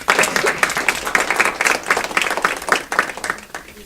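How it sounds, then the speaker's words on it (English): An audience at a future teacher signing event claps in a round of applause for the families, a dense burst of many hands close by that carries on steadily before tapering off slightly at the end. "So we get a round of applause for the families here."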